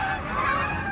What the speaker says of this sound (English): Just a flock of geese.